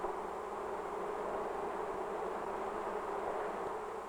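Honeybees buzzing inside a hive, a dense, steady, faint drone with no breaks, heard alone.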